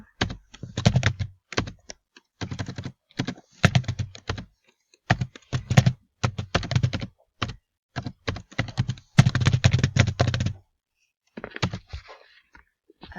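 Rapid bursts of keystrokes on a computer keyboard as a command is entered on a Debian system, close and clear, coming in irregular clusters separated by short pauses, with a final scattered flurry near the end.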